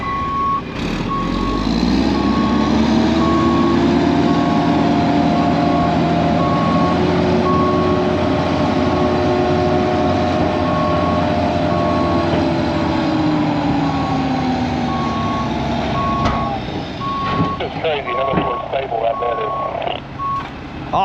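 Truck reversing for a flip dump bed, its steady backup warning beep repeating throughout over a loud, constant engine rumble, with a voice briefly heard near the end.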